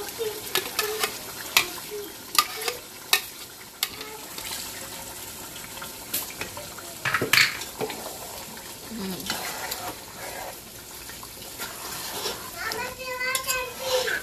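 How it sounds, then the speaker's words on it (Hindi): Masala with ground almonds, yogurt and onion frying in a pot for Mughlai badami chicken handi, sizzling steadily while a spoon stirs and scrapes in irregular bursts, close and moderately loud, with a voice talking over it. "मतलब ये कि मसाला इसका बिल्कुल भुन गया है"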